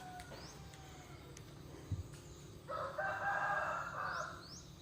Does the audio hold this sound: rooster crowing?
yes